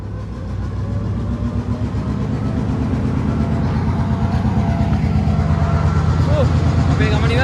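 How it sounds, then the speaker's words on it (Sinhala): A Badulla-bound train passes through hill country near Ella station, a loud, steady low rumble with rhythmic wheel clatter that builds slightly as it goes by. "ට්‍රේන් එකක් තියෙනවා මං හිතන්නේ බදුළු ට්‍රේන් එක."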